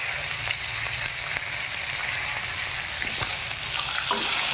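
Onion, green chilies and curry leaves sauté in a hot pan for vegetable idly upma, giving a loud, steady sizzle with faint stirring scrapes throughout.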